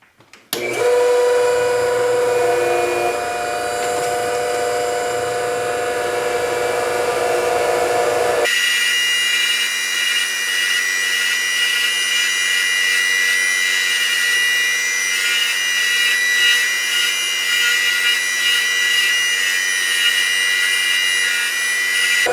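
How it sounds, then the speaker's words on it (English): Polishing machine buffing a metal bangle, a steady high motor whine with dense tonal hum running continuously and close, rougher at first with the workpiece pressed to the wheel, then a smoother even drone. "Maybe I'll show a little buffing"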